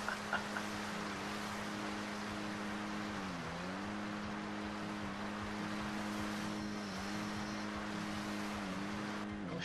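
A car engine in the GTA V video game during a wheelie, a loud steady drone with a broad rushing roar. The engine pitch dips slightly at a few points, and there is no talking.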